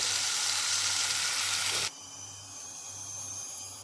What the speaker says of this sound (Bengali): এভাবে আমি এক এক করে সবকটা মাছ ভেজে নেব